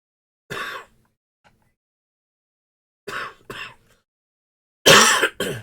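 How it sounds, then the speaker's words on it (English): Several harsh coughs and throat clears in separate bursts, a single one first, then a pair, then a louder double burst at the end, with silence between. "there's one of those coughing fits"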